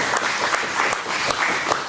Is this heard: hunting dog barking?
no